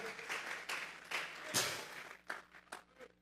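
Congregation clapping during a Sunday church service, faint and distant rounds of applause rising and falling in short waves, soft and a little uneven.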